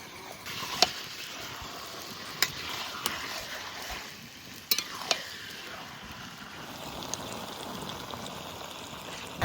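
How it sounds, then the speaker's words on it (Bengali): Marinated mutton sautés in a pot over a village cooking fire, giving a continuous sizzle broken by occasional sharp clinks of a spoon against the pot. "মিডিয়াম আছে মাংস ভালো করে কষিয়ে নেবো এবার"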